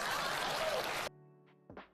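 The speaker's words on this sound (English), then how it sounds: "Please clap." Dense burst of applause from an audience at a news and politics talk show, loud and steady for about a second before cutting off abruptly, followed by a quiet hum and a few faint noises.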